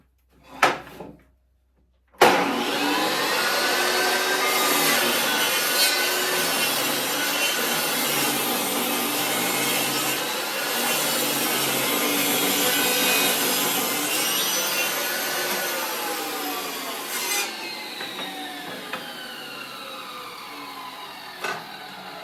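A power saw with its blade tilted to 45 degrees cuts lengthwise along a wooden 1x3 board. A loud, continuous rasping whine runs for about twenty seconds after a brief start-up burst, then dies into scattered quieter knocks, with no talk.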